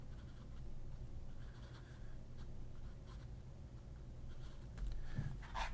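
A quill nib pen scratches across paper in a faint, steady close-up rasp, quiet and continuous with a few small taps near the end.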